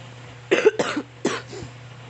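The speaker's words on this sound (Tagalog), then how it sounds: "may ubo ako" A person coughs three times in quick succession, then gives a softer fourth cough, close to the mic over a steady low hum with no speech.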